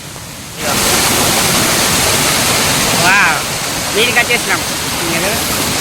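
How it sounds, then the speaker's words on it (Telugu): Roaring waterfall near Mancherial, a loud, steady broadband rush that swells in after a quieter start and continues throughout, with someone talking briefly over it. "వాటర్ ఫాల్ మీదికి వచ్చినాం"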